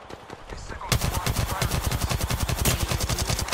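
Rapid automatic gunfire in the Apex Legends video game, a fast, loud, evenly spaced burst of shots that starts abruptly after a quieter moment and keeps going without a break.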